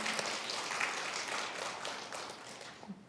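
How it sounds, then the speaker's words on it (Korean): A church congregation at a Sunday worship service claps together, a soft, dense patter of many hands heard from a distance that fades slightly near the end. "박수로 한번 격려해 주시기 바랍니다."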